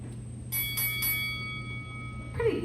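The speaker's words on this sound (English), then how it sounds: "Let's sound that bell one more time, Kip" Three quick ringing strikes of a hand bell at a live political rally, bright and sustained with a lingering hum, followed by a short rustle near the end.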